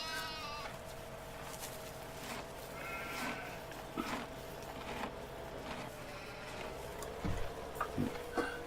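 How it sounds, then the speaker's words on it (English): A black sheep in a farming video game lets out a few bleats against a quiet ambient farm backdrop with faint ticking and scattered soft knocks. "Black sheep."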